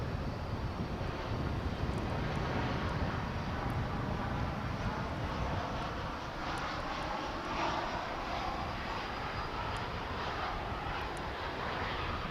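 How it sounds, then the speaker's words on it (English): Steady, distant jet engine drone of an American Airlines Airbus A319 arriving at Dallas/Fort Worth Airport, low and even throughout with faint wind noise on the microphone and no speech. "It's a little Airbus A319, and that's our next arrival on Runway DFW."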